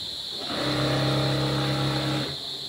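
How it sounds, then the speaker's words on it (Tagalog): A turbo car engine playing on a TV revs up and holds a steady droning roar for about two seconds, then cuts off, with a high whine running underneath. "Itong motor ng turbo."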